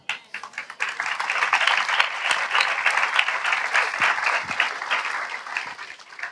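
A church congregation bursts into loud, sustained applause that swells after a brief start and carries steadily for several seconds before easing slightly.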